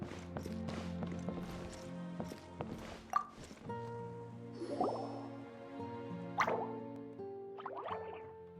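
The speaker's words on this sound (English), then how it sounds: "it sounds like a water droplet is on the second floor" Water droplet sound effect in a video game, a series of soft plopping drips spaced irregularly over a bed of mellow music, quiet and close.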